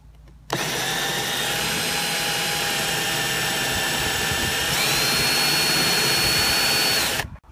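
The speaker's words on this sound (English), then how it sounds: "then I'll be drilling into the boat" A power drill bores holes into a boat hull for a trolling motor mount, a steady, loud whine running continuously for about seven seconds with a slight rise in pitch near the end before stopping.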